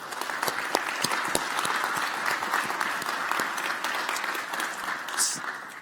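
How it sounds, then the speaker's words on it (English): An audience at a health IT tech forum gives a round of applause for the speakers and sponsors, with steady, fairly loud clapping and a few sharp individual claps standing out throughout. "So can we get one more round of applause for everybody?"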